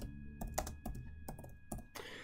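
Typing on a computer keyboard while entering SQL, with bursts of quick keystrokes separated by short pauses, fairly close and moderately loud, with no talking.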